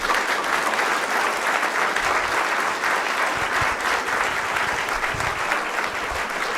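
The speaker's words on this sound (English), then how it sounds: "Let's give him a big round of applause." Steady, dense applause from an audience for a visiting state senator, Scott Wiener, at a community conversation event, continuing loudly and evenly throughout.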